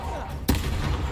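A Confringo fire spell blasts off in Hogwarts Legacy, one sudden loud burst that flares up and settles into a rumbling tail over a steady game background.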